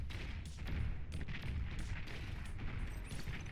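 Distant artillery and gunfire booms ripple through a Beyond All Reason real-time strategy battle, with repeated dull thuds and crackling impacts layered over a steady rumbling wash of combat noise.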